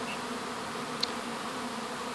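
Bees swarm around a hive kept by a beekeeper, with Weaver queens named in the colony: a steady, dense buzzing hum fills the whole stretch, close and continuous, with one brief sharp tick near the middle and no talking.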